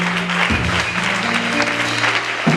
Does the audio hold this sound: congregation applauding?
yes